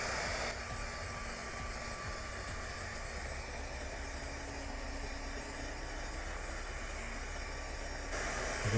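A heat gun blows with a steady, even whoosh as it warms a plastic Boba Fett flak-vest armor piece for molding, unbroken and moderately close throughout with no talking.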